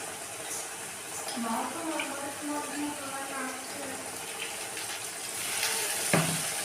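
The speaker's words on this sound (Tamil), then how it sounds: "இதோட கொஞ்சமாக தண்ணி மட்டும் மிக்ஸ் பண்ணி நம்ம ஊற்றிக்கணும்" Water pours and trickles steadily at low volume, with faint kitchen clatter and a brief clink near the end.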